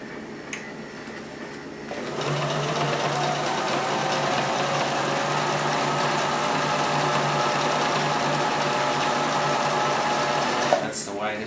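Singer 2517c sewing machine winding a bobbin: after a quiet start, a steady close whirring hum begins and runs evenly, then ends with a brief click and rustle. A voice speaks faintly over it.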